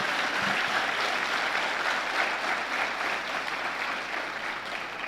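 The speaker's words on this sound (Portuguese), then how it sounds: "Vamos aplaudir Jesus." A church congregation applauds during a sermon, sustained even clapping from a large crowd that fills the hall without pause.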